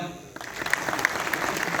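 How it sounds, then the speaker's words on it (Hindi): An audience at a business founder's talk breaks into applause, the clapping starting abruptly after a brief lull and continuing as a steady, fairly close burst of many hands. "ताली बजाओ"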